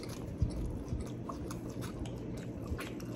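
Someone chews a bite of a Portillo's hot dog with a soft bun and poppy seeds, giving quiet, close, wet mastication with a few small crunchy snaps and no talk.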